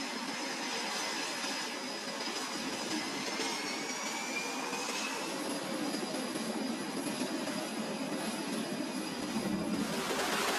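Jet aircraft engines on an aircraft carrier's catapult run at high power with the launch bar held back, making a loud, continuous roar with a high whine throughout and no speech.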